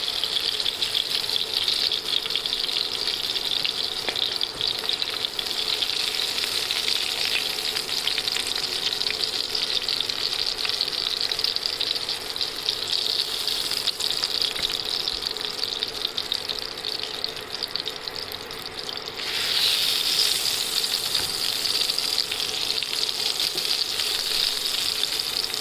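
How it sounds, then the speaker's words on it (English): Hilsa fish frying in hot oil for a mustard hilsa curry gives a loud, continuous close-up sizzle and hiss that runs unbroken throughout, shifting slightly in tone near the end, with no voices. "Make sure you're not frying Hilsa fish too much"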